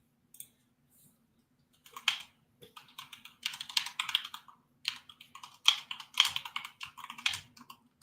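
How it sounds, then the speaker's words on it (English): Typing on a computer keyboard in an office, with close clicking keystrokes in irregular bursts and short pauses, no one talking. "typing in info here"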